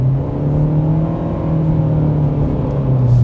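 Toyota hybrid with eCVT accelerating from a stop, a steady loud engine hum holding a near-constant pitch while speed builds, heard alone from inside the car.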